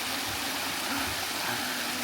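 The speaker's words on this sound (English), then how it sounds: "And you got a little waterfall on this side." A small waterfall and running stream at Rainbow Springs, a steady close rushing wash of water with faint voices underneath.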